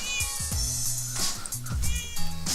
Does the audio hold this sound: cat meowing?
yes